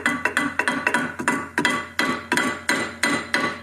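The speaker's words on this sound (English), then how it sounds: "Now I've got a brass hammer, so I can tap this," A brass hammer taps a press-fit transmission input shaft about a dozen times in a steady, slightly uneven rhythm, each sharp metallic knock close and distinct.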